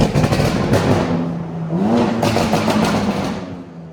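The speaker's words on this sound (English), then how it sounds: "Do a little downshift on it." A tuned Stage 2 G87 BMW M2 engine downshifts, a loud, close, steady drone whose pitch dips and then rises as the revs climb, without speech.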